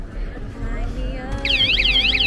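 Bike anti-theft alarm sounds its short warning tone after a light touch on a delivery bicycle: a warbling electronic beep starts about two-thirds through, close and loud, over low background noise and faint talk.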